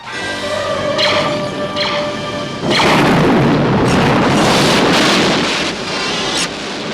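Starship weapons fire in a Star Trek film battle, loud booming blasts with a roaring, wind-like rush that swells and sustains after a tonal opening.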